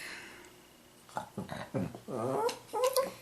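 A dog growls low and rumbling in a few short, close grumbles after a quiet stretch, with whiny, throaty rises between them.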